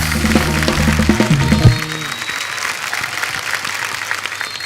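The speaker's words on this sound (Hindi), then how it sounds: "एक बार जोरदार तालियां हमारे सब मेहमानों के लिए।" Strong studio audience applause greeting guests on a Hindi comedy talk show, loud and steady for about two seconds over a brief musical flourish, then thinning into a softer, lingering clatter of clapping.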